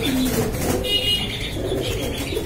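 A pair of black racer pigeons, one solid black and one checker black, give soft, close, repeated coos.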